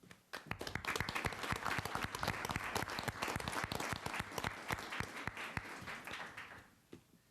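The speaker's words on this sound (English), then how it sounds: "Every one of them deserves a round of applause" Applause at a city council meeting for race winners: a burst of dense clapping from a modest room of people that holds steady for several seconds, then quickly fades out.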